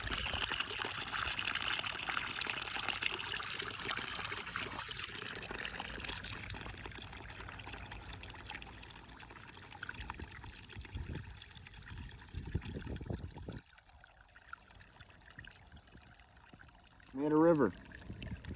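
Water trickles along a small channel dug into dirt, a continuous low gurgle with scraping and handling noises, then a short louder burst of sound near the end.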